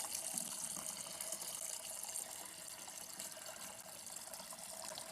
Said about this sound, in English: Just a little water feature.